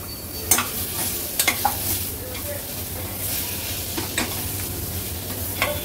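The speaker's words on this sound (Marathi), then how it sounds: "वाटण पण आपल्याला मसाल्यांमध्ये थोडंसं असं शिजवून घ्यायचं आहे" Ground masala paste and tomato cook in spices for a Maharashtrian thali, giving a constant sizzle with repeated sharp spatula scrapes and stirs close by.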